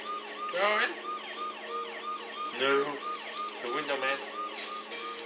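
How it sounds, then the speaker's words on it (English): A wailing ambulance siren from the video game Dead Synchronicity cycles up and down steadily in the background while people speak briefly over it. "the ambulance's deafening siren"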